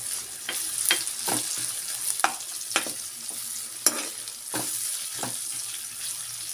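Crushed ginger-garlic paste is stirred into fried onions in a pan for chicken curry, with repeated close scrapes of the spoon over a continuous sizzle and no talking.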